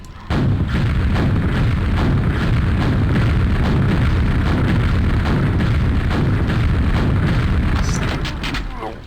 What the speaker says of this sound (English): my rocket launcher exploded from overuse